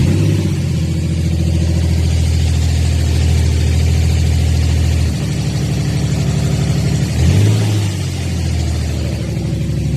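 A Nissan G35 with a VQ engine, freshly fitted with an XTD clutch, idles steadily at close range, a deep even rumble with a brief blip around the seventh second.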